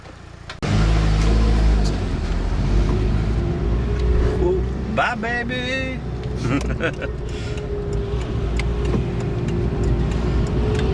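Mitsubishi Evo V engine with a refurbished, recirculated blow-off valve, heard while driving: a loud engine drone rises and falls, with a brief whooshing valve release midway, and people talk over it.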